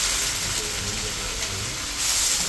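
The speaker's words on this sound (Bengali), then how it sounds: "কেটে রাখা শাপলাটা তেলে দিয়ে দিলাম" Chopped water lily stems go into hot oil with fried garlic, turmeric and salt, setting off a loud, steady sizzle and hiss that swells slightly near the end.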